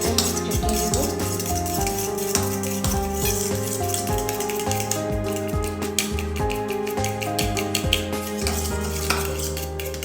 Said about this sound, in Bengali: ভালো করে এটা ফেটিয়ে নেব।